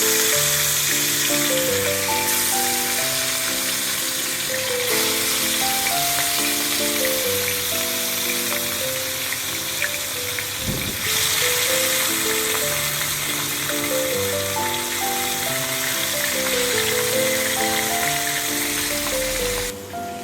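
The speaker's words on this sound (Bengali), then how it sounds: "আমার কড়াইতে যে তেল দিয়েছিলাম সেটা গরম হয়ে গেছে, এবার আমি মাছগুলোকে দিয়ে দেব।" Katla fish, a large 13 kg Bengali freshwater fish, frying in hot oil in a wok: a steady, dense sizzle runs through the whole stretch, mixed with continuous tonal background music.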